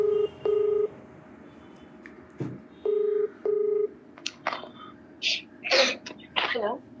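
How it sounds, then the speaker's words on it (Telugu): A telephone number being dialed: two short pairs of steady DTMF keypad tones, followed by a brief cough or sneeze-like burst and a few voiced sounds, fairly close and clear. "ఒకసారి కాల్ చేస్తానండి"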